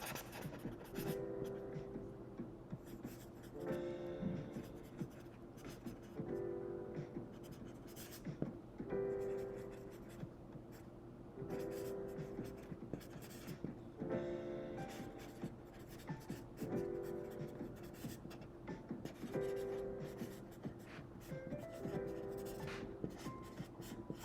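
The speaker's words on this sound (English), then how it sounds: "I'll write you a personal note." A pen scratches across paper as a personal note is handwritten at an autograph signing, steady strokes repeating in bursts for a long stretch, with faint background murmur.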